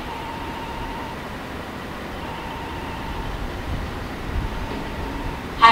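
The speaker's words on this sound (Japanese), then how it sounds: "8番乗り場に列車が参ります。" A JR 485 series limited express Hakucho train pulling into Hakodate station, a steady rumbling roll of wheels and motors with a faint platform tone, rising slightly toward the end.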